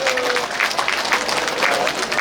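Steady applause from a crowd at the Tanggamus Expo, an outdoor regional fair on a field in Tanggamus, with dense clapping throughout and faint voices mixed in.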